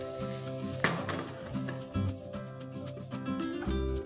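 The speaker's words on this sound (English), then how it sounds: "Swirl this well and allow the garlic to just kind of begin to turn golden brown in color." Garlic, cumin seeds and asafoetida sizzle steadily in hot oil for a spinach saag, a constant crackling fry with occasional louder pops from swirling the pan.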